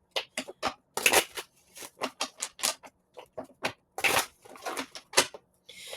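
Crisp riffling and snapping bursts of cards being shuffled, repeated in quick irregular clusters, close and fairly loud with no talking.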